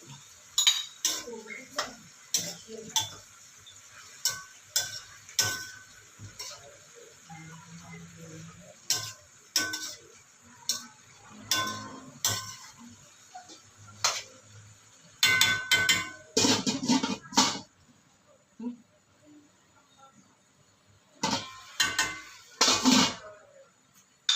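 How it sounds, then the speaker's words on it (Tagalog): Shrimp are added to a pan while making a home snack, with repeated quick ticking clinks of a utensil against cookware spread through the clip, some faint voices in the background, and a denser burst of clatter midway. "Ilagay natin itong hipon."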